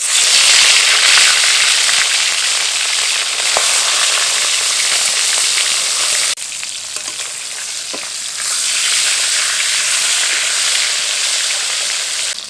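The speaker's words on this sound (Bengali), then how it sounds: "তেল খুব ভালোভাবে গরম হয়ে গেছে, এখন মাছের মাথাগুলো দিয়ে ভেজে নেব।" Fish heads fry in hot oil with a loud, dense sizzle and crackle at close range, briefly dipping in the middle before rising again, with no voices.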